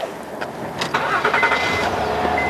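A 2010 Honda Accord Crosstour engine starts up, a brief starter crank followed by the engine catching and settling into a steady idle, close and moderately loud with no talking.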